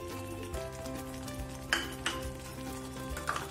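Curd hits a hot pan for a cottage cheese curd korma and sizzles steadily up close, with a few sharp utensil clinks against the pan and no talking.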